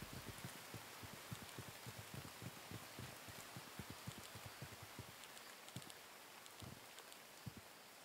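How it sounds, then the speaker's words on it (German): Steady in-game rainfall from the horror adventure game Folklore Hunter, a constant hiss with scattered patters and soft thuds, fairly faint and even throughout with no talking. "Es regnet, ja."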